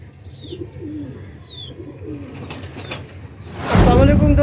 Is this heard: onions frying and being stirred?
no